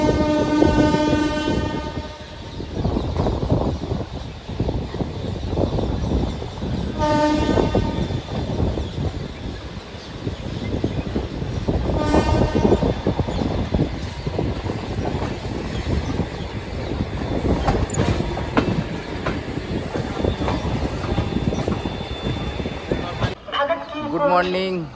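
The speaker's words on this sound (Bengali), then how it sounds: "আমাদের ট্রেন এসে পৌঁছালো আহমেদাবাদ স্টেশন।" A passenger train pulls into Ahmedabad station, its horn sounding loudly several times over continuous rumbling wheels and carriage clatter, with voices and station bustle throughout.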